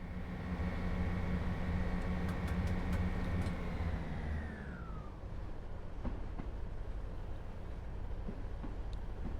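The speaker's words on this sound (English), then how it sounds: "show you what the normal service braking is like" Scotrail Class 158 diesel train in Train Sim World under normal service braking, a loud steady engine and rolling drone that eases off with a falling whine and settles into quieter track rumble with light clicks.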